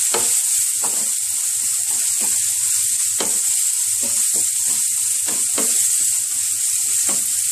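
Ground beef frying in a pan with salt and chili flakes, a loud continuous sizzle with periodic scraping stirs, close and alone.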